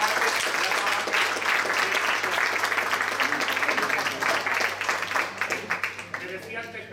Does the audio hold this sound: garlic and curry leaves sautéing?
no